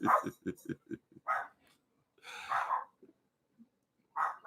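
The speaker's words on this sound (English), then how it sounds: "this dog is called a Lhasa Apso" A Lhasa Apso barks in a home, first a rapid string of short yaps, then a couple of longer, throatier barks separated by pauses, close and fairly loud.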